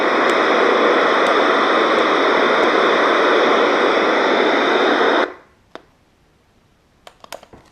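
Loud, steady static hisses from a Maxcom 7e radio receiver for about five seconds, then cuts off abruptly, leaving near silence with a few faint clicks.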